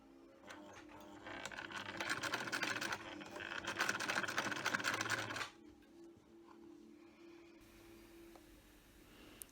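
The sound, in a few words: sewing machine sewing mask pieces together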